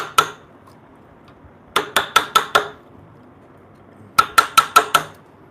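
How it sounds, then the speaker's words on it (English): A small chisel chips chunks out of a curved wooden rail with sharp, close knocks: one lone strike, then two quick bursts of five rapid blows each, separated by short pauses. "Let's bite the bullet here and take some chunks out. I use the small chisel, just bite size."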